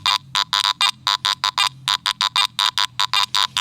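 Rapid electronic beeping in short bursts from a Garrett metal detector, a bright high tone pulsing irregularly and loudly, with a faint low hum underneath.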